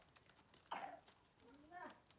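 A couple of short coughs close by, one sharper burst followed by a softer, throaty one, in an otherwise quiet room.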